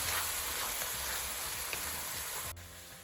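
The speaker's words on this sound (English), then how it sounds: "now you fry the tomatoes in the masalas for at least 4 to 5 minutes" Steady sizzling of tomatoes frying in masala in a hot pan, a dense continuous crackle close by, which drops off sharply near the end.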